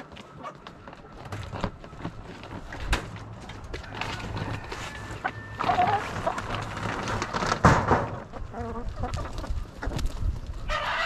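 Chickens cluck and squawk around feed on a farm in Erzurum, with scattered close calls and rustling over several seconds, a louder squawk partway through, and faint background noise.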